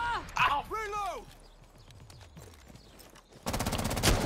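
Gunfire in the Rainbow Six Siege video game, a rapid automatic burst that comes in at the end after players shout and talk over quieter game sounds.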